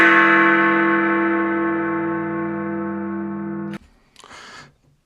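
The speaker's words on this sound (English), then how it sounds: "That was the chime." A single bell-like chime rings out loud and sustained, its tone slowly decaying for several seconds before cutting off, followed by a short burst of brief knocking noise.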